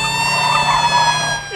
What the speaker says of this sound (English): how to tailgate a speeding fire truck to get places faster